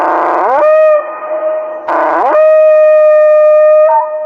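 Reconstructed call of a fast, feathered predatory dinosaur, Lepidopter, given as two loud, drawn-out howling cries with a rising start and a sustained, tonal, wailing pitch, close and alone.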